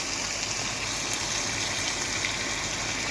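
Hot water rushes into a pan of cooking curry chicken, a steady close gushing wash with no pause over a few seconds.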